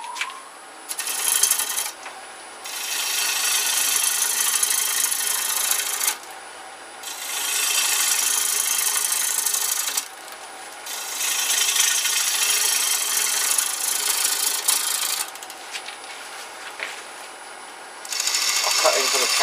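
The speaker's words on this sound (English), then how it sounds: "I'll cut into the tenon now." A gouge cuts a tenon on a spinning holly bowl blank on a wood lathe, a loud hissing, rasping shear in long passes of several seconds separated by brief quieter gaps.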